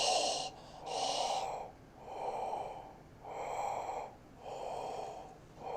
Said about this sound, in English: You can hear myself breathing.